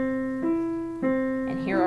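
Two separate notes of a third starting on C are played on a piano, one after the other, each ringing clearly. A faint higher figure follows near the end.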